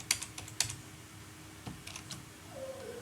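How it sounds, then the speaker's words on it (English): Root password being typed on a computer keyboard during a CentOS 7 Linux guest additions install: a few quick close key clicks with short pauses, then a faint tone near the end. "So I'll just go ahead and type root password."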